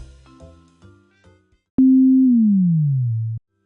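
A synthesized 808 bass with its pitch envelope set to maximum: a single loud tone sweeps gradually downward and sustains for about a second and a half, cutting off abruptly after a few quieter synth notes.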